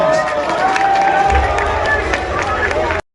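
A political rally crowd claps and cheers steadily and loudly, a dense wash of applause with scattered shouts that cuts off abruptly.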